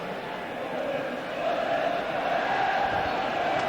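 A large football crowd at a 1987 Sunderland versus Barnsley match, a broad steady roar of chanting voices from the stands, distant and continuous, swelling slightly partway through, with no distinct commentary over it.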